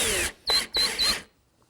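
Power drill driving 2.5 inch screws into wood while building an Adirondack loveseat, three close, loud bursts of motor whine with a short gap between the first and second, no talking.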